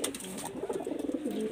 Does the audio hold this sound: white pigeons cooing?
yes